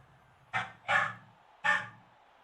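A puppy gives three short, sharp barks in quick succession, the first two close together and the third after a brief pause, with quiet in between.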